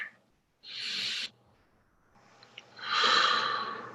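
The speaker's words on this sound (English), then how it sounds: "let's all just take some breaths" Two slow, audible breaths, a sharp inhale followed after a pause by a long, loud exhale, close and breathy with faint murmurs between.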